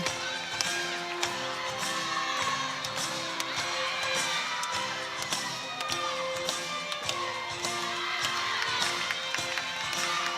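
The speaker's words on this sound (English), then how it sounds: "you can hear the crowd already clapping" A crowd at a college gymnastics meet claps steadily along to an upbeat floor routine, the rhythmic clapping blending with loud music and arena murmur.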